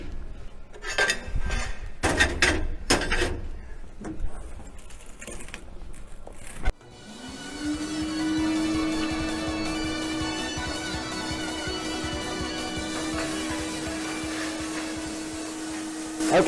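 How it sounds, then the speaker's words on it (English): A sandblaster blasting metal pieces in a metal shop: a few sharp metallic clanks and knocks, then a steady loud hissing rush of air and grit with a sustained tonal hum running on to the end. "let's sandblast these and we're going to weld them up"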